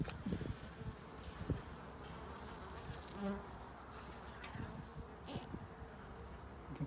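Honeybees buzz steadily around outdoor hives in early spring, with several insects droning close by in a continuous, moderately faint hum and no voices.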